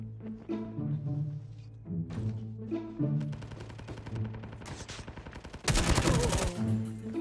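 Call of Duty Mobile gunfire rattles in rapid automatic bursts and stuttering volleys over a tonal game soundtrack, ending in a loud dense fusillade.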